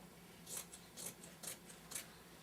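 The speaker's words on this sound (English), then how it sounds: "now I'm gonna cut around what I need" Scissors snip through slipcover fabric in four quiet, evenly spaced cuts with crisp, hissing strokes and short pauses between, no voices.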